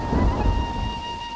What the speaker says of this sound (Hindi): जल्दी चलते हैं, बारिश तेज हो रही है।